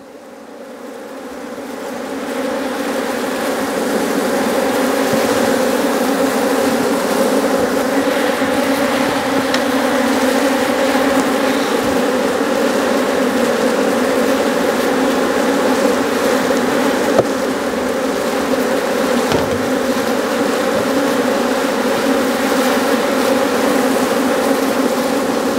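Dense swarm of honeybees buzzing loudly after being shaken from eight hive frames, a thick continuous drone that swells in within the first seconds and then holds steady, with no talking.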